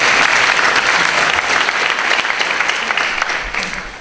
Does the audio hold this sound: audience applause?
yes